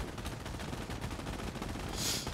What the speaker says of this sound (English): I have my MGs suppressing this entire force over there